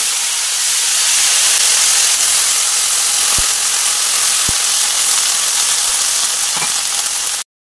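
Cut vegetables hit hot oil with a dried red chilli in a home kitchen pan, setting off a loud, steady sizzle that runs alone for several seconds, with a few faint utensil clicks.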